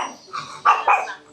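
A dog at a rescue gives a few short barks and soft whimpers, close by and fairly quiet, over a little over a second with no talk.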